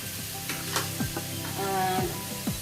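Catfish stir-fry sizzles loudly in a hot pan after a splash of water, a steady crackling hiss broken by the scrape and clatter of stirring.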